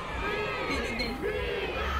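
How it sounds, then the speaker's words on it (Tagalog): Fans at a BINI event venue scream and crowd together in a dense, loud, continuous roar of shrieks and cheers, with overlapping high voices throughout. "Hiyawan at nagsisiksikan na ang mga manonood para makapwesto at mapanood ang grupo"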